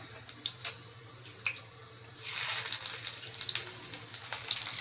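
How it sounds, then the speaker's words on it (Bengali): Cumin seeds and two bay leaves hit hot oil in a pan, bursting into a bright, crackling sizzle after a few sharp ticks, then settling into a steady hiss. "তেলের মধ্যে আমি দিচ্ছি ওয়ান ফোর্থ পরিমাণ টিস্পুনের ওয়ান ফোর্থ পরিমাণ জিরে দিচ্ছি দুটো তেজপাতা"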